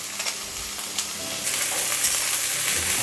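Diced carrot, potato and green peas fry in a pan for a mixed lentil dal, giving a steady close sizzle with scattered crackles and a few stirring scrapes, growing a little louder partway through, with no talking.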